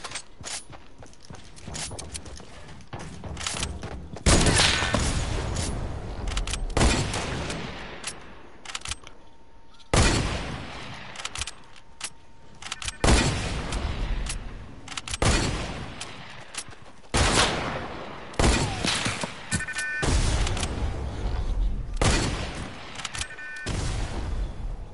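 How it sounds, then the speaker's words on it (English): Heavy sniper rifle shots in a video game, a series of loud, sharp, separate cracks spaced a few seconds apart, each one trailing off quickly, with some mechanical clicks between them. "I'm gonna no-scope him with the heavy sniper"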